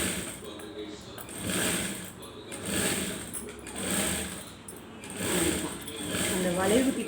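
A sewing machine stitches cloth with a continuous rapid mechanical whir that swells and eases in speed, heard close and steady while someone talks over it.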